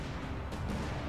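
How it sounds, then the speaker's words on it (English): Artillery bombards a garrison base in Command: Modern Operations, a dense continuous rumble of shelling with blurred distant blasts, steady and loud throughout. "They're bombarding the garrison with artillery."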